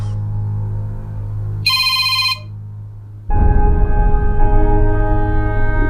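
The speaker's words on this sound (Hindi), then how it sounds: "किसका फोन है आप ही? उठा लें, बेल सर में हथौड़े की तरह लग रही है।" A telephone bell rings loudly in a domestic drama scene, a bright burst of ringing followed by a steady electronic tone, with a low hum underneath and no voices.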